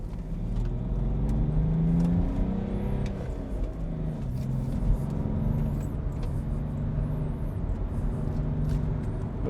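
BMW 525d Touring estate driving and accelerating, a steady low engine drone with rising tones heard from inside the car, moderately loud and continuous with no talk.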